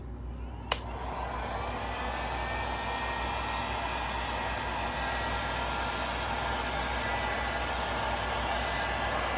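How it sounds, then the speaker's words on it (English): A heat gun blows steadily over white paint in a continuous, close airy roar with a faint whine, opening with a single sharp click. "I think I'm going to just run the heat gun over and blow it a little bit"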